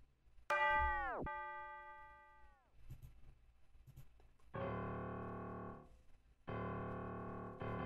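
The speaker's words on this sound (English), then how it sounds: "Some bells." Bell tones in an FL Studio trap beat: a loud struck bell rings out and decays, a softer tinkle follows, then two sustained chiming bell chords enter, each held about two seconds, with no talking.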